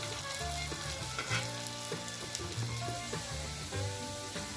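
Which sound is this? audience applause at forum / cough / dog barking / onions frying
onions frying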